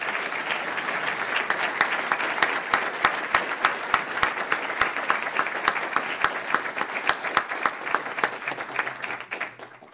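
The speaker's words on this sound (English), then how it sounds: "And I think we owe a round of applause to them all." A council meeting audience gives a full round of applause at an inaugural session, dense steady clapping that holds for several seconds and then fades, with a voice briefly heard at the end.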